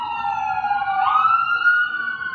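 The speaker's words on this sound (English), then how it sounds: "ambulance is going by" An ambulance siren passes by outside, a loud, steady wailing tone that bends upward in pitch midway as the vehicle goes past, with no voices over it.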